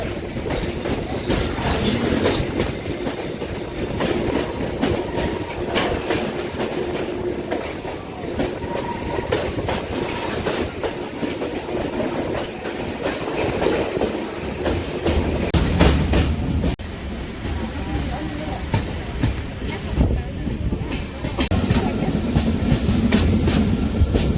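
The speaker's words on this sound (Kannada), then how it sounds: "ಭಾರತೀಯ ರೈಲ್ವೆ ಇಲಾಖೆಯಿಂದ ವಿಜಯಪುರದಿಂದ ಮಂಗಳೂರಿಗೆ ಹೋಗುವ ಟ್ರೈನ್ ಒಳಗೆ" Inside an Indian Railways passenger train travelling from Vijayapura to Mangaluru: a steady, loud rumble with continuous rhythmic clickety-clack of wheels over rail joints, with no voices throughout.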